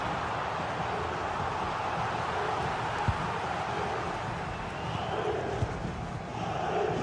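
Football match crowd roaring with a steady, dense wall of cheering and noise for the whole stretch, swelling slightly near the end, with a few sharp shouts or claps popping out of the din.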